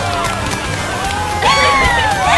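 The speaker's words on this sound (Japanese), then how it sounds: "それでは今宵のチャレンジャーに今一度盛大な拍手" Crowd applause and cheering at a challenger's event in the PS4 version of Final Fantasy VII, a steady close wash of clapping and shouts that swells louder midway and carries on to the end.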